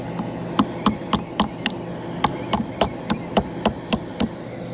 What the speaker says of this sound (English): if I can get to the hammer here